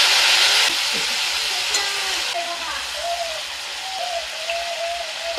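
Ground spices, including cumin and chili powder, sizzle and fry in a hot pan after a splash of water is added, a steady hiss with a louder burst at first that eases into a softer crackle.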